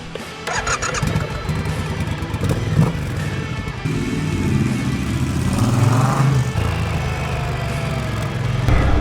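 Triumph Thruxton motorcycle on Coryton Sustain sustainable fuel cranking over and starting, then settling into a close, loud, steady idle with a slight rev swell partway through.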